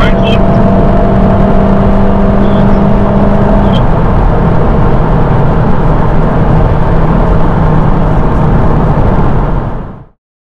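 A Cupra Formentor 1.5 TSI 150 HP with DSG gearbox accelerates hard at high revs, heard from inside the car: a loud, steady, roaring engine and road drone that holds for about ten seconds, then cuts off abruptly.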